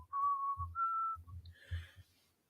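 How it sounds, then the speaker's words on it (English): A clear, sustained whistled tune, a few held notes in a row, fairly close, with a low rumble of movement underneath. "don't know if whistling hurts the mic"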